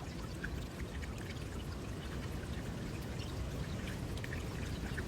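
Pond water stirred up close by, a steady wash of pouring, trickling sound that holds at one level for the whole stretch, with no voices over it.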